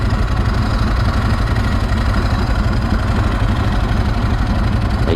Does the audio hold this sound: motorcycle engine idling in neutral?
yes